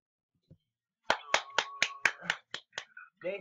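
A small group clapping in a quick, uneven run of about eight sharp claps after a brief single clap, near and distinct, followed by a short burst of voices.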